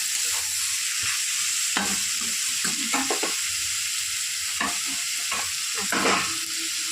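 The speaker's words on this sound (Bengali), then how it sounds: "শাপলাটাকে আমি ভালো করে মিক্স করে নিচ্ছি সব মশলার সাথে।" Water lily stems being stirred and fried with spices in a pan, with a steady hiss of frying under repeated scraping strokes of the spoon, close and continuous.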